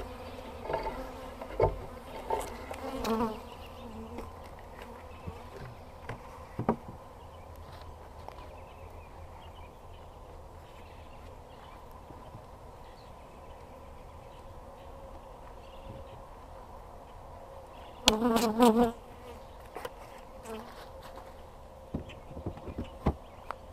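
Honey bees buzz around an opened hive late in the evening during a hive split, a faint continuous hum with scattered louder passes and a brief close burst of buzzing near the end.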